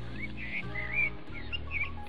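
Songbirds chirp and tweet outdoors in short, bright repeated calls over a steady low background hum, fairly close and clear.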